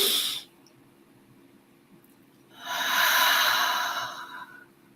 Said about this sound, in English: We're going to start the first one by breathing through the nose.